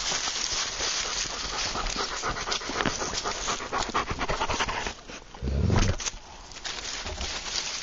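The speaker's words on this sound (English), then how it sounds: "My brother-in-law's German Shepherd and my father-in-law's other dog. Coming to say hello." A German Shepherd and another dog pant rapidly and close by while coming up to greet someone, with a short pause and a low thump near the end.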